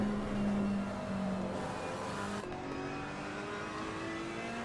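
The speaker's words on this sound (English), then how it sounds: "Let's go and listen to an onboard with one of the other cars." A GT3/911 Cup race car engine roars onboard, holding a loud steady drone with tonal whine, then dipping and rising again through gear changes.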